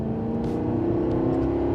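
A Maserati GranTurismo Sport with its 4.7-litre V8 drones with a steady, loud engine note that climbs gently in pitch, heard on its own.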